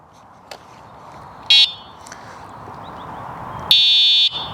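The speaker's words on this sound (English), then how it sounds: "There's a horn." Electric horn on a DYU A5 folding electric bike, a loud shrill buzzing blare sounded twice, first a short blast and then a longer one, close and alone over faint background noise.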